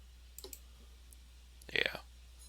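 Computer mouse clicks while adjusting an Ubuntu MATE or Linux Mint 17 panel, one soft click early, then a brief close cluster of sharp clicks, faint against a quiet background.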